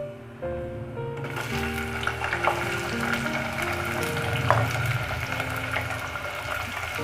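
Onion, green chilli and garlic go into a pan of hot oil with fennel seeds. A sudden sizzle starts and holds steady, with stirring clinks and a faint humming tone underneath.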